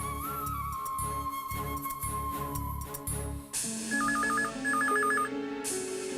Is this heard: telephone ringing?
yes